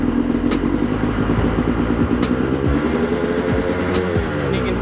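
A Honda CR250R two-stroke motorcycle engine runs close by in a steady, buzzing idle with a rough, rattling pulse and only slight rises in revs, with no talking.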